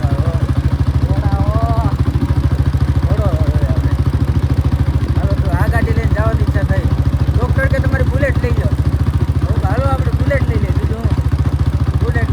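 A Honda Dream motorcycle engine runs steadily up close with a low, even idling pulse throughout, while voices talk over it.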